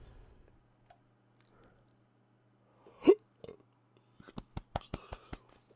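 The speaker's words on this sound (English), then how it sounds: "Hiccups." A single sharp hiccup stands out in a quiet room, followed by a quick series of faint clicks and taps.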